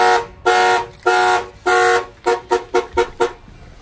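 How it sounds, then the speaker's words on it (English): A Buick Grand National's car alarm sounds nearby through its horn: three long blasts, then a rapid series of short toots. "If somebody opens the door, their alarm will fire off."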